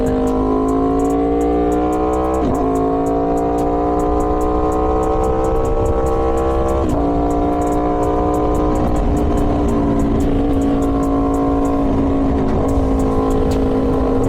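An Aprilia Tuono V4 motorcycle with an LV Corsa carbon exhaust drones loudly and steadily while riding, its engine note shifting pitch with brief gear changes and wind rush, close up and continuous.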